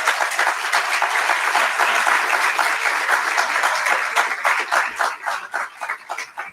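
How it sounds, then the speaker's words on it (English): An audience at a National Honor Society induction ceremony claps for the inductees in a loud, sustained wave of applause that thins toward the end, with no speech over it. "please do not hold your applause until the end"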